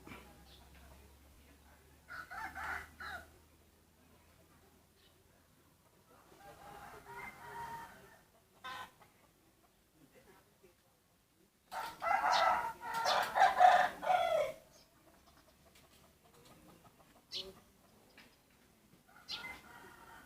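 Chickens cluck in scattered bursts, with a rooster crowing loudly partway through, fairly quiet overall with gaps of near silence.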